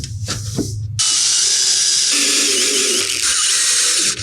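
A loud power driver whirs steadily for several seconds after a short burst of clattering, as screws are driven into thermo-ash deck boards on outdoor stairs.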